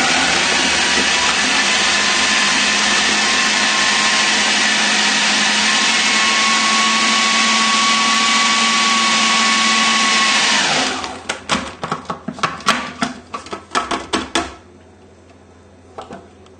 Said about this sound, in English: all we're going to do here is blend it just to mix it together